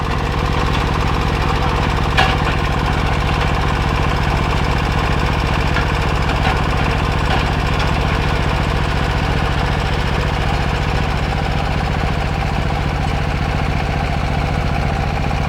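A small engine on a little farm machine that is not a tractor, started on the first pull and running steadily at a loud, close, even idle with a constant knocking drone and no speech.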